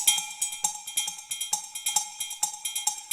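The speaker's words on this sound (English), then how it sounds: "Here's a kit of cowbells called cowbells." A drum kit made of cowbells is struck in a quick, steady pattern of bright metallic clanks with ringing overtones, each hit sharp and close, some accented harder than others, with no voices.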